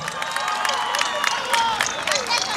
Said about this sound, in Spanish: El aplauso para Fernando y la chica de lentes.